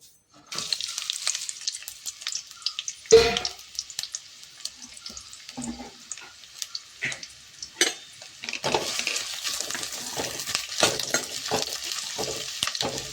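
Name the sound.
onion frying in oil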